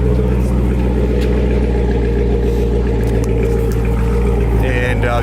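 A car engine idles loud and steady right after a cold start on a winter day, a constant low rumble filling the whole stretch while someone talks over it.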